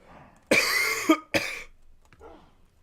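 A person gives two harsh, loud coughs in quick succession, close to the microphone, followed by a fainter, breathy throat sound.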